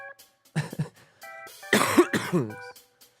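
A person coughs and clears their throat in a few harsh bursts, close and loud, separated by short pauses, with a stronger cluster of coughs in the middle.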